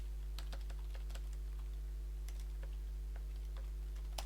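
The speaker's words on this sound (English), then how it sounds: "Let me type this in." Typing on a computer keyboard produces quick, irregular clusters of soft key clicks close by over a steady low electrical hum.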